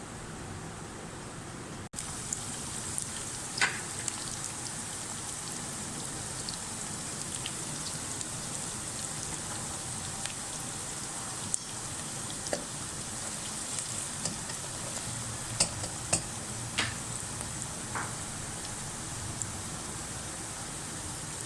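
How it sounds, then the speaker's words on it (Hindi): Onions brown in a cup of hot oil for a shahi badami korma. The frying makes a steady, rain-like crackle and hiss for the whole stretch, with a few sharper pops here and there. No one speaks. "हमने इसमें जो है 1 कप तेल लिया है और उसमें जो है ना प्याज ब्राउन करने के लिए रख दिया है"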